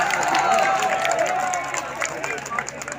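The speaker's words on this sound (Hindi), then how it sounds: "तालियों से मुझे एक बार बताएं कि आप सुन रहे हैं।" An audience at a mushaira, an Urdu poetry gathering, claps in a sustained ripple of hand claps, with a voice speaking over the applause.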